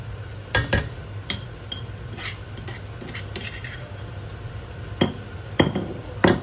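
Ginger and garlic hit a hot pan under a soft sizzle, broken by repeated metallic clinks and scrapes of a utensil against the pan, with several sharper knocks toward the end.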